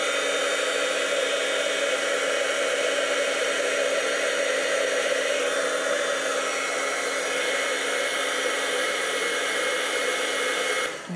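A heat tool blows steadily over ink spritzed onto muslin fabric, a loud, constant whirring rush of air that holds unchanged for about eleven seconds before cutting off abruptly at the end.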